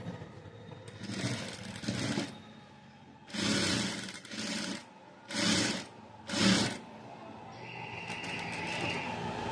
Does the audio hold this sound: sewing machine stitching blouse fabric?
yes